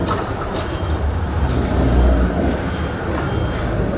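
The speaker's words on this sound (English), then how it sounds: "We'll finish up with these two trams." Melbourne trams passing along a city street, a steady rumbling roll with low-end drone and faint rail clatter, fairly loud and continuous throughout without any talk.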